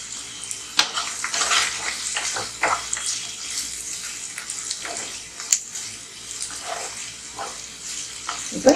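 Onions sizzling and sautéing in a pan for onion chutney with salt and tamarind, a steady hiss broken by intermittent scraping and stirring clatters, close and fairly loud.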